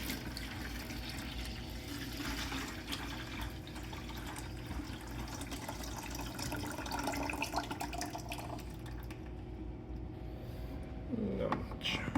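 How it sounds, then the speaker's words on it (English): Dirty water drains steadily from a carpet steam cleaning machine, a continuous faint trickling and gushing wash that runs throughout with a soft voice underneath. "This is the last of the dirty water from the dry passes."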